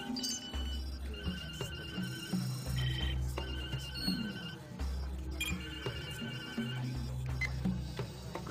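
A telephone ringing in an evening scene, electronic ring bursts repeating in a regular pattern over a low steady hum, moderately loud with no voices.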